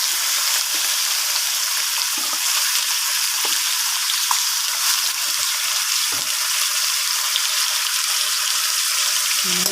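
Pork pata pieces fry loudly in a pan, a dense steady sizzle broken by scattered knocks and scrapes as they are stirred, with no voices.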